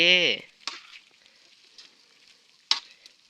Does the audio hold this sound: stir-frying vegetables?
yes